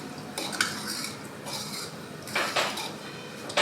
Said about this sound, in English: So I'm going to pour my coconut juice inside with my peas. Let me give it a little stir.